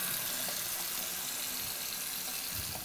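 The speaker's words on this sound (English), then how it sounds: "I'm going to go wash my hands." Tap water runs steadily into a sink for a few seconds during handwashing in a home kitchen, a fairly quiet, continuous wash with no voices.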